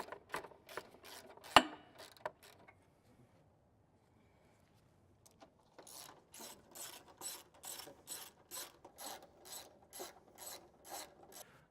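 A hand ratchet working on the front fuel tank bolt of a Harley-Davidson Road Glide or Street Glide, giving a series of quick clicking strokes, then a quiet pause, then a steady run of rhythmic ratcheting clicks, fairly soft and close.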